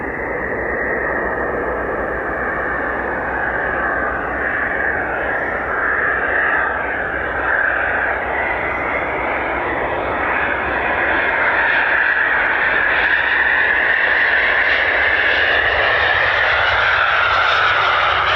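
A Eurofighter Typhoon jet on final approach with gear down at RAF Coningsby gives a loud, continuous engine roar and whine that holds steady and swells slightly as it nears.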